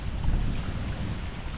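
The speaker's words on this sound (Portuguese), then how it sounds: "a maré tá forte, um ventinho gostoso" Steady seaside wind rushes and buffets the microphone on a breezy day by a strong tide, a continuous low roar with faint surf and water movement beneath it, no voices.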